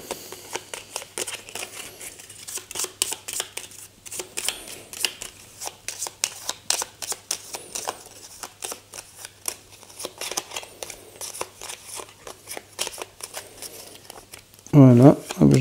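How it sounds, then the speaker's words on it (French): Cards for the Aeon's End board game are shuffled by hand on a table, giving a long run of quick, close riffling and tapping clicks, with a brief burst of voice at the very end. "je vais mélanger les cartes du tour"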